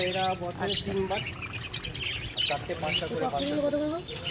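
Caged pet birds at the Shokher Haat hobby bird market in Dakshineswar chirp and tweet in quick bright bursts, with several birds calling over one another amid market bustle while people talk nearby.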